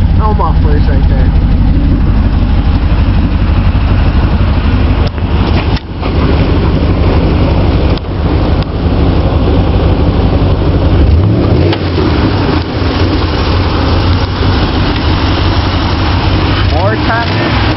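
A 1996 Chevy 1500 truck with straight pipes and no mufflers, its engine idling with a loud, deep, rough rumble close by, a few rev blips, and voices talking over it throughout.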